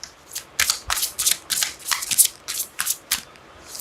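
Tarot cards are shuffled by hand close up, giving a quick run of about a dozen crisp riffling bursts in an irregular rhythm. There is no talk.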